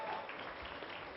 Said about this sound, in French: mesdames et messieurs, on l'applaudit chaleureusement